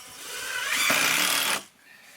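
A power driver spinning a screw into wooden stake sides of a logging trailer, one sustained whirring burst of about a second and a half that winds up and then cuts off, close by, with no talk.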